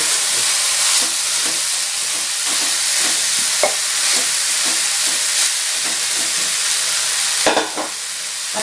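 Cooked rice being added to a hot pan and stir-fried for rice chowpan, a steady loud sizzle with repeated scraping stirs throughout and a sharper clatter near the end.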